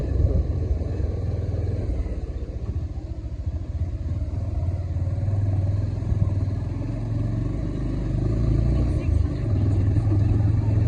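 A motorbike climbing uphill on the way to Baudeshwor Mahadev, its engine rumbling steadily and close with rattling clatter throughout, as if recorded from the rider's seat.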